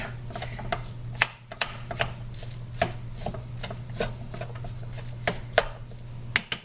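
Meat in a cooking pan is broken up with a spoon, giving repeated scraping and tapping strokes at an uneven rhythm over a steady low hum, close and fairly clear.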